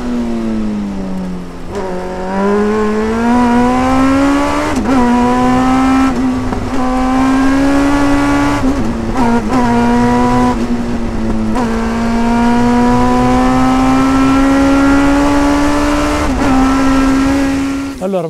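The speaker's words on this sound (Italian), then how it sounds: "Allora Matteo, questo qua è un motore Hayabusa 1340 del 2010, praticamente un motore aggiornato rispetto a quello di serie" Westfield Megabusa sports car powered by a 2010 Hayabusa 1340 motorcycle engine, heard loud and close throughout as the engine revs and pulls through several upshifts, with brief dips between gears and a steady high-pitched drone.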